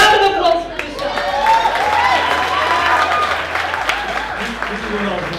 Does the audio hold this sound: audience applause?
yes